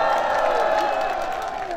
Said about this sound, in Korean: 황학지 시장님께 다시 한번 박수 부탁드리겠습니다